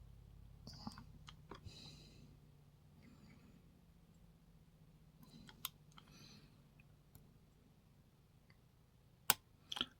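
A pin tumbler lock is picked with a tension wrench, giving small, sharp, faint clicks scattered over a low background hum, with a couple of louder, crisper clicks near the end.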